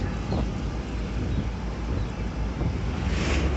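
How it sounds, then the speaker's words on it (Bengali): Wind rushes steadily past an open window of a moving vehicle on a highway in Tangail, Bangladesh, a loud continuous broadband roar with low road rumble, no talk. "বেশ সুন্দর বাতাস শোষ করে বয়ে যাচ্ছে"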